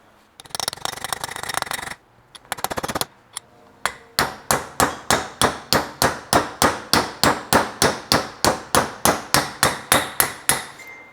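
Hammer blows driving a bearing into place through a socket during a BMW E46 rack rebuild: a quick flurry of metallic taps, then a long, even run of loud, ringing strikes at a steady beat, close by.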